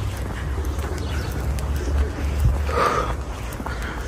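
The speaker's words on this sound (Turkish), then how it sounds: "Güvercinlerimize bakın." Pigeons coo softly outdoors amid steady ambient noise, with a brief, slightly clearer burst partway through.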